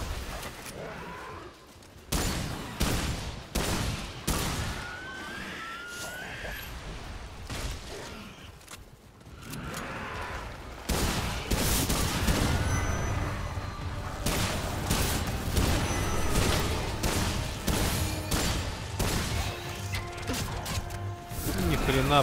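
Gunfire rattles in the video game Remnant 2 during the Forbidden Grove stage, with bursts of shots, mechanical clicks and crashes running through a long stretch while someone talks over the action.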